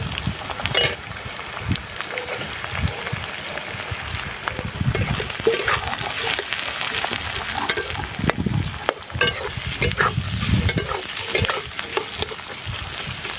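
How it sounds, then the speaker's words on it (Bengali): Onions sizzle and crackle in hot oil for prawn bhuna, with stirring scrapes and clatter close by; a steady, busy frying noise with no talking. "তেল গরম হয়ে গেছে, এবার আমি দিয়ে দিচ্ছি পেঁয়াজ"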